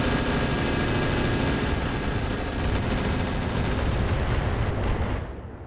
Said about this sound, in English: And then they're dropping some mortars on the Corsair.